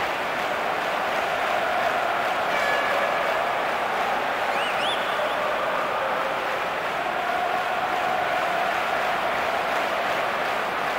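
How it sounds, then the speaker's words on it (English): A stadium crowd in PES 2023 eFootball, a Crystal Palace vs Manchester United match, applauds and roars in a steady, even wash of noise that continues throughout, with no talking. "The crowd wait to offer them a red-hot welcome."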